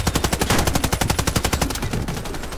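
Rapid automatic gunfire from a video game clan war, a loud continuous burst of evenly spaced shots lasting a few seconds, close and alone without talk.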